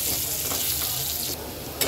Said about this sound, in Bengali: আমি আলুটাকে কয়েক মিনিট একটু সুন্দর করে ভেজে নেব।